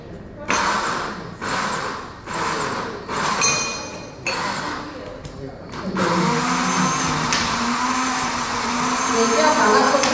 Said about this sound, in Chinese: 如果你家里的搅拌机比较小的话哦，你可以分开2次来搅。